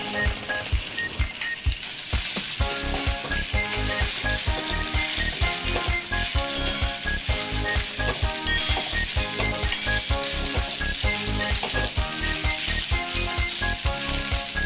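Soaked sabudana (sago) frying in a pan for khichdi, a steady close sizzle with rhythmic scraping and stirring strokes throughout, no voices.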